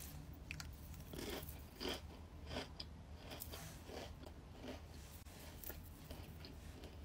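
Crunchy food bitten and chewed close up, a series of sharp crackling crunches roughly every half second to second, loud and dry against quiet surroundings.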